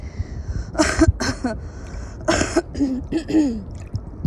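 A few short, harsh coughs or throat-clearing bursts in a quick cluster, followed by quieter rustling and faint voice-like sounds.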